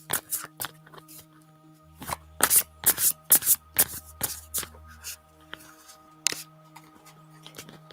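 Oracle cards from a Moon Goddess deck are shuffled by hand in a series of crisp riffling bursts with brief pauses, close to the mic, over a low steady background hum.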